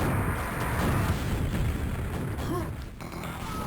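Rocket launcher blasts from Quake rumble into a dense, booming explosion, loud and close throughout, with a brief higher whoosh near the end.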